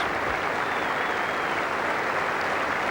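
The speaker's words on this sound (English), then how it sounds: "he raised his bat and acknowledged the applause of this crowd" A cricket crowd at the 1995 Australia v England fourth Test in Australia applauds Phil DeFreitas reaching fifty, a dense, steady wash of clapping throughout that sounds distant and broad, without a break.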